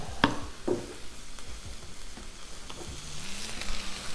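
Oil sizzling on a Blackstone griddle while smoked sausage breakfast tacos cook, with a faint, steady crackle and a few sharp metal scrapes and taps from a spatula.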